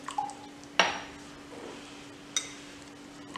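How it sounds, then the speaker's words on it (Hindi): A spoon stirs a mixture of grated vegetable, finely chopped onion and a little water in a bowl for a breadless sandwich, with two or three sharp clinks against the bowl over a quiet background. "अच्छे से इसको मिक्स कर लेंगे।"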